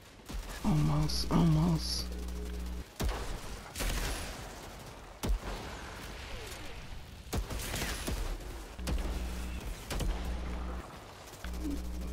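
Gunfire in the video game Outriders rings out in several bursts and single cracks, loud and near, with a player talking between the shots.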